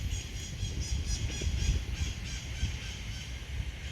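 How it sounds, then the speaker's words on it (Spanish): Hispaniolan parrots call outdoors in a continuous, busy chorus of harsh squawks and honking cries. "aquí hay pericos. Esos son pericos de la Hispaniola."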